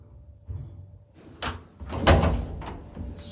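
An old Stigler-Otis elevator door in a Rome building slides and thunks shut, giving a few close knocks and a rumbling slide with a final clatter, in a quiet interior without talk.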